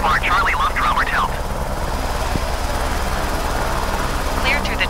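A helicopter flying around St. Petersburg, Russia, gives a loud, continuous engine and rotor rumble with steady pulsing low tones, while crackly radio voices talk over it at the start and end.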